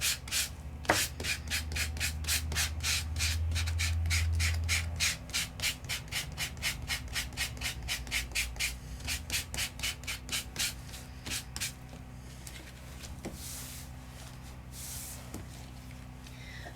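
Sanding embossed paper craft work by hand, with quick regular rubbing strokes close by that slow and fade out, over faint background hum from nearby construction.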